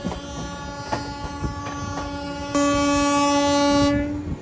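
A train horn blares in a long sustained blast over the rumble and clatter of passing rail cars, following shorter horn tones.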